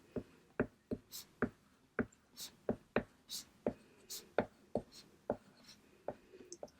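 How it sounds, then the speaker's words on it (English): A pen draws a chart on paper in a series of about fifteen sharp, scratchy strokes at a steady, brisk rhythm, close and distinct with quiet gaps between marks. "So I'm going to draw my chart."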